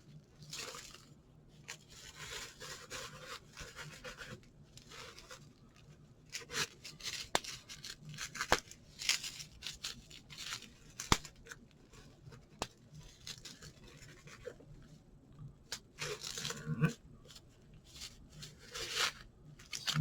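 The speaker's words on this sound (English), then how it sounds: "Now we will pull the record out of the bubble wrap." Rustling and crinkling of bubble wrap as a vinyl record, a 50th anniversary picture disc of Debut, is pulled from its packaging, with soft irregular scrapes and pops throughout at close range.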